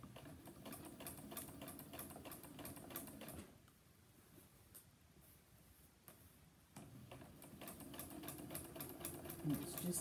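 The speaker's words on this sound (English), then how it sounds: "And it's just adding a pretty little top stitch." A sewing machine top stitches a satin pillow case in steady rapid runs, pausing briefly in the middle before resuming, fairly faint and close.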